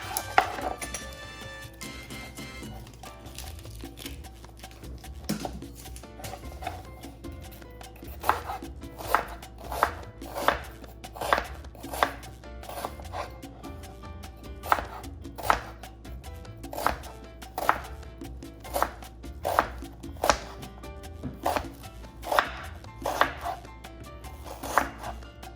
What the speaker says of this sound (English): cut up the onion